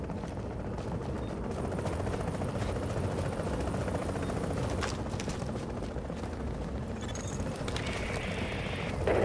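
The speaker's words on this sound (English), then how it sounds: "Chopper is inbound." Helicopter arriving for extraction in a video game, a steady loud rotor thrum with mechanical clatter that holds throughout, dense and close with no talk.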